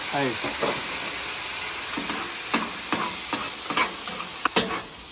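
Barbecue sauce with whiskey and bacon onion jam stirred and reducing on a hot flat-top griddle, a steady sizzling hiss broken by several scraping strokes of a spatula, close up with no talking.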